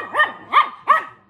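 A dog gives three sharp, close barks in a steady rhythm about a third of a second apart, each bark loud and clear with short quiet gaps between them.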